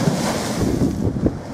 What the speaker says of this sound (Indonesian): besar ombak, kencang angin juga, Pak?